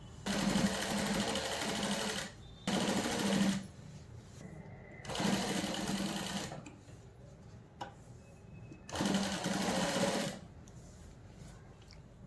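Sewing machine stitching the pleated pallu of a nauwari saree runs in four separate bursts of fast, steady mechanical whirring, each lasting a second or two, with quiet pauses and faint clicks between them.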